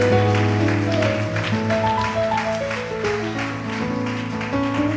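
A church congregation claps in rhythm to praise the Lord, the steady beat of hands riding over loud sustained music with organ-like tones.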